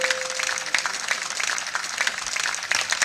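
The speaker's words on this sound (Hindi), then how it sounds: "छोटू भैया के लिए तो जोरदार तालियां दे दें" Audience applause and cheering for Chhotu bhaiya at a Mahabharat katha recitation, a steady wash of many hands clapping throughout, fairly close and dense, with brief swells and a faint tone in the background.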